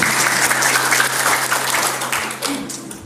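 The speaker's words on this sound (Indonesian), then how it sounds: "Tepuk tangan untuk kita semuanya." An Indonesian audience at a health talk breaks into dense, sustained applause, many hands clapping together up close before the sound tapers off slightly toward the end.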